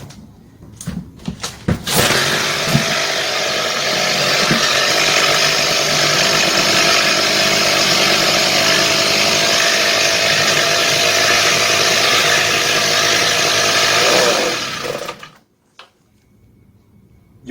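A brush cutter's small engine sputters, then roars into a loud, steady buzzing run for about thirteen seconds before running out of fuel and abruptly cutting out to near silence.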